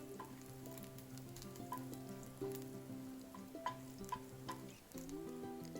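Mustard seeds, dry red chilli and curry leaves frying in hot oil as seasoning for Malabar spinach sambar, a steady close sizzle with scattered popping crackles throughout, no talking.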